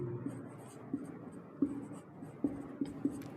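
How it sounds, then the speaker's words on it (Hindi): Chalk or pen writing on a board during a physics lesson: short scratchy strokes and taps in an irregular rhythm, faint and close, with no talking over them. "तो हम यहाँ पर लिखेंगे कि"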